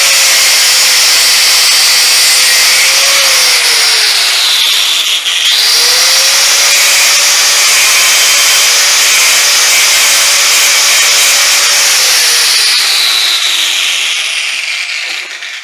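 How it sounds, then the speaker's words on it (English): An angle grinder grinds parts off a broken electric deployable tow bar from a Range Rover L405 or Sport L494, a loud continuous close whine with one brief dip and restart midway, then fading at the end. "we'll get the grinder, and then we'll nip those up and grind those off"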